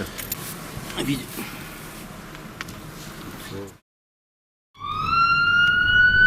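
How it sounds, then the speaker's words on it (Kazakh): An ambulance siren wails as it drives along a city street, rising in after a brief silence and following a stretch of steady traffic and street noise. "Таңга жуук көчөнү жаңыртып, сиренасы оңулдап бараткан тез жардамдын унаасы"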